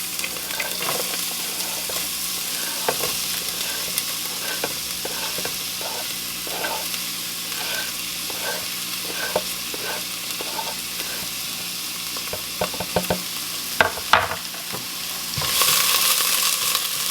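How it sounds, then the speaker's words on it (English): Onions and garlic frying in olive oil in a pan, a continuous close sizzle with rhythmic stirring scrapes and occasional utensil knocks, louder toward the end, no voices. "I've got some olive oil just in the bottom of the pan, and I'm going to add some onions and some garlic"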